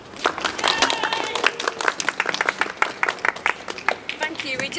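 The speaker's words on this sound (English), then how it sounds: "give them a big round of applause" Audience applause at a Lorax performance at a Leicester tree festival, a dense run of many hands clapping for nearly five seconds, fairly close and steady, with voices mixed in under the clapping.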